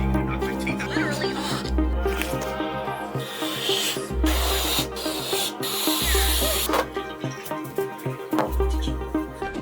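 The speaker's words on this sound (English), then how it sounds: "Let's go blow some balloons." Someone blows up balloons by mouth: breathy, hissing puffs and rubbery rubbing come in bursts, fairly close, over steady background music.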